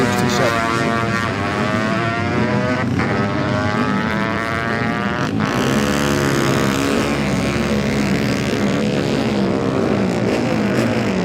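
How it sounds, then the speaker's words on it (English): Classic TT Junior race motorcycles, including a 350 Greaves and a Ducati, roar past loudly one after another, engines rising and falling in pitch as each bike passes close by. "Most interesting bike next, number 83, Will Loader, on a 350 Greaves"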